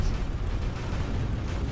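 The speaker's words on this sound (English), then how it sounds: "Explosion imminent." An explosion in a space video game during an assault on a station, a sustained deep rumbling roar with crackling debris, steady and fairly loud with no pauses.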